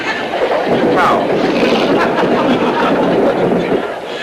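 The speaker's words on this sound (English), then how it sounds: "The train went through a tunnel then" A continuous, loud rumbling roar of a train running through a tunnel, with a dense rushing hiss and a brief squeal near the start, holding steady before easing off at the end.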